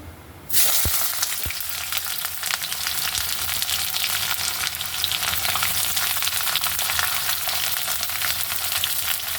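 Sliced onion, with a little ginger and a few green chillies, hits hot oil in a pan and breaks into a loud, steady sizzle that holds unbroken to the end.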